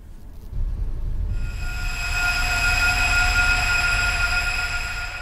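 A hand vacuum sound run through a sub-octave effect to mimic a jet plane: a deep rumble swells in, then a bright, high whistling whine joins and holds steady and loud over the heavy low roar, with no talking.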